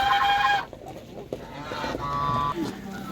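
Poultry at a village animal market near Ivano-Frankivsk, with young geese among them, honking and clucking calls up close in short bursts over a busy outdoor background.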